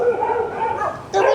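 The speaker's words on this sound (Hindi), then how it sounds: "यहाँ पर डॉगी आ गए भैया" Several dogs bark and yip close by on a street, the barks mixed with a voice talking over them.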